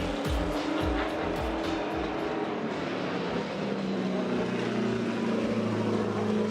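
BMW E36 drift car engine at a Formula Drift event, loud rapid revving pulses at first settling into a sustained high engine drone, with crowd and track noise around it.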